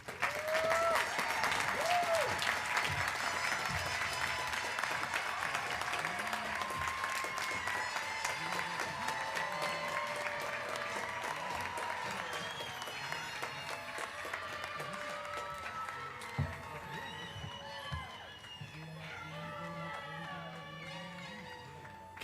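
Sustained applause from a large commencement audience honoring new graduates at a university spring ceremony, steady dense clapping with scattered cheers that thins slightly toward the end.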